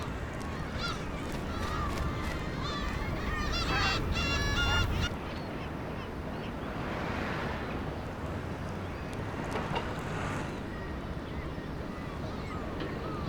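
Herring gulls squabble over neighbouring nests in a breeding colony, giving loud honking, goose-like calls in bursts over steady outdoor background noise.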